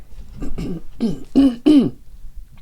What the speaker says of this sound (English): a lot of like needing to clear my throat this morning